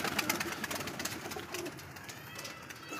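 Pigeons coo softly and steadily inside a pigeon house, a low murmuring chorus of overlapping calls, fairly faint and continuous with light rustling throughout.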